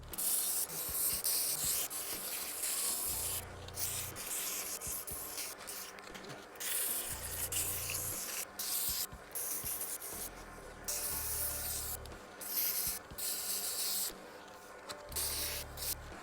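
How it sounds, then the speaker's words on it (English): Wood turning on a Jet lathe is sanded with 150-grit orbital sandpaper, a steady close hissing rub over the low motor hum, lasting throughout with brief shifts as the paper is repositioned, and no talk. "I now want to take some sandpaper and smooth all this out"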